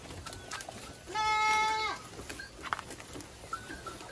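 A healthy goat, among local and Boer goats on a small farm, gives one clear, loud bleat lasting under a second, with faint shuffling and quiet farm sounds before and after.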